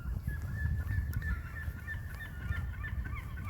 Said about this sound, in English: Oh, seagull.